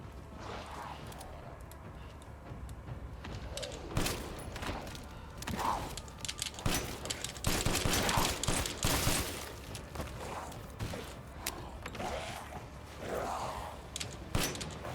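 Rifle fire from the game Resident Evil Village, several sharp shots scattered through the stretch amid mechanical clicks, creaks and footstep noises, moderately loud with a busy game soundscape.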